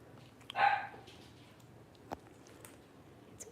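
Puppies give one short, fairly clear bark-yip, followed by faint scattered clicks and small sounds in a quiet room.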